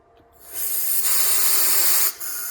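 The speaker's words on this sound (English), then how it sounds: "I take compressed air, blow all that out." Compressed air blasts through the passages of a Mikuni flatside carburetor from a 1998 Yamaha SRX 700 two-stroke triple, a loud close hiss that starts abruptly, holds steady for about a second and a half, dips briefly and resumes.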